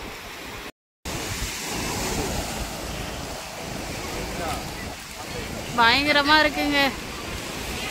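Sea waves at Velankanni beach roar steadily with wind buffeting the microphone, a constant surf wash up close while people talk briefly over it.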